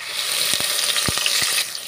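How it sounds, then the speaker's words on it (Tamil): Sliced onion frying in hot oil with cinnamon and cloves for vegetable biryani, a loud close bright sizzle with several quick spatula knocks against the pan, no talking. "ஆனியன் பார்த்திங்கன்னா நல்லா ஃப்ரை ஆகிடுச்சுங்க"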